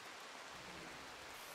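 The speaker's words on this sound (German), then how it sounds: "Regnet halt immer noch." Steady rain pours down in a colony-building game, a dense, even hiss that carries on unbroken from start to finish with no voices over it.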